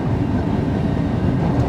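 A train rolls into London Paddington station with a steady low rumble and a rhythmic rail clatter, heard close and loud with no voices over it.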